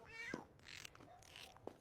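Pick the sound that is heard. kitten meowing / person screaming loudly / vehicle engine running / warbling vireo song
kitten meowing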